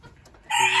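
A broody Silkie bantam hen sitting on her eggs gives a single loud, close, harsh cluck that starts abruptly after a quiet moment.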